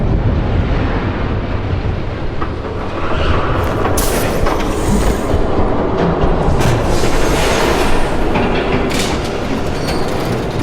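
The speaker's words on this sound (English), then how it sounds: "There's a train coming." A train thundering past in a Batman video game, a loud continuous rumble with rattling clatter and squealing wheels that swells in the middle and holds to the end.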